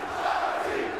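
A large crowd roars and cheers at a Call of Duty League esports event, a steady dense wash of voices filling the brief moment.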